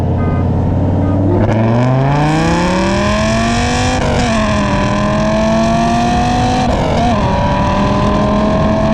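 An Audi R8 V10 and a Dodge Viper accelerate hard side by side in a roll race from about 20 mph, engines roaring loud and close with rising pitch and brief dips at gear shifts.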